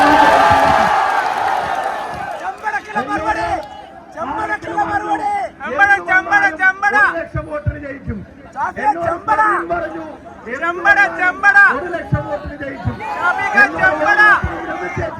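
Large crowd at a political rally, loud and close, with voices shouting and chanting in rhythmic surging bursts and cheers rising throughout.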